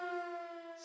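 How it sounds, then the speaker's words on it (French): A loud, steady alarm siren sound effect holds a sustained wailing tone for its brief length, with no voices over it. "ah ça c'est une sirène d'alarme"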